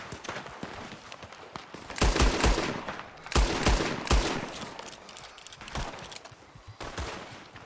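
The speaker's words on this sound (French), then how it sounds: "Faites attention sur qui vous tirez" Gunshots in a Red Dead Redemption 2 roleplay shootout, with several loud clustered shots and bursts separated by brief lulls, plus scattered background game sounds.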